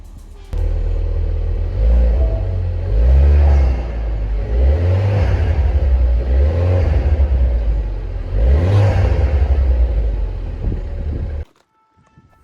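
A Ford car engine, low on coolant, idling after being started, a loud steady low rumble with a few rising and falling rev surges before it cuts off near the end.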